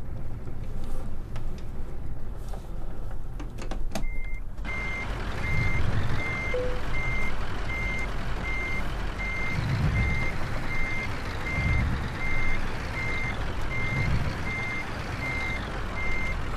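Reversing warning beeps from a heavy truck without a middle steer axle in Euro Truck Simulator 2, a steady evenly spaced series of loud beeps repeating over a continuous diesel engine rumble, with no talking.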